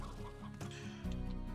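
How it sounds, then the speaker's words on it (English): Hens clucking in the Slime Rancher video game, a busy cluster of close, overlapping clucks over a steady game-music bed, growing louder in the last half second. "You guys can have the hens."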